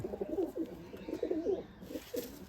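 Pigeons kept as a hobby flock, including Andhar and old-line Giribaz pigeons, coo in repeated low rolling phrases close by, several birds overlapping steadily for the whole stretch.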